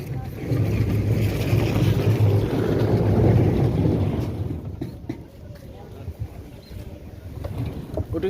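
A ferry boat crossing toward Gangasagar during the Gangasagar Mela gives a loud, steady engine rumble with wind buffeting, easing to a softer drone halfway through as faint voices carry in the background.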